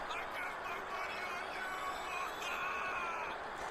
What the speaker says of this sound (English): You could hear the crowd out there yelling, hey, we got our money on you.